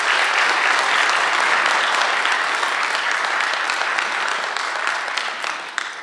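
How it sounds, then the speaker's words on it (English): Loud, dense applause from a seated audience thanking a panel at an Urban Land Institute report on St. Petersburg's waterfront, sustained throughout and tapering slightly at the end. "Let's give the panel a nice round of applause."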